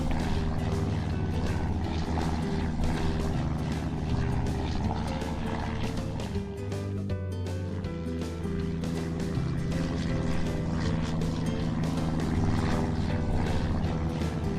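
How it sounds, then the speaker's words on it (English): A cartoon seaplane flies along on its propeller engines, a loud, continuous droning hum with a slight flutter, steady throughout with a brief dip midway. "The seaplane is flying off to look around."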